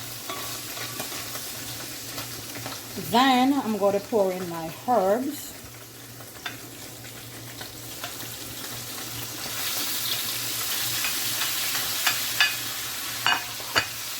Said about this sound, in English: And this is going to fry it up. The codfish.